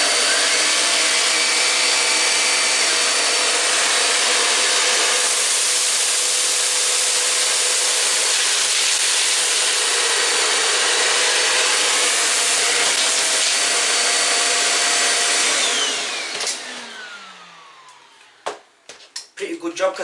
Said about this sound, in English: So I'm going to test the shark duo first. I've put down some rolled oats, some rice and some cereal.